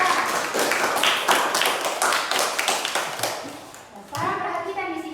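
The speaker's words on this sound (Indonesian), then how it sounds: "Tepuk tangan untuk Hafiza." Children in a classroom clap together for a classmate, a dense burst of hand claps that thins out toward the end, with a teacher's voice speaking near the close.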